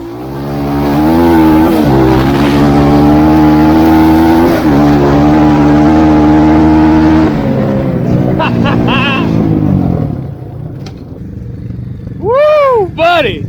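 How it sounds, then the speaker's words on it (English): Loud engines of a small Chinese dirt bike and a trophy truck roar and rev close by in a long sustained drone during a drag race, fading out as a vehicle passes, followed by quieter distant engine whines. "this little China bike can actually keep up with the trophy truck"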